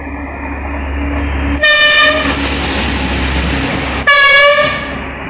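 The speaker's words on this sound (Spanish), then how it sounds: "Va a pasar un camión vía y obra." A rail maintenance truck passes through Mariano Acosta station on the Sarmiento railway: a steady rumbling roll on the tracks under two loud blasts of its multi-tone horn, the second after a short gap.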